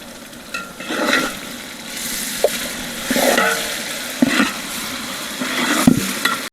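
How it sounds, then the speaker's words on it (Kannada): Food sizzles in a hot pan for chicken pulao while a spoon stirs it in a few bursts, with occasional clinks against the metal, close and loud. "ಜೋರಾಗಿ ಅಲ್ಲಾಡ್ಸು"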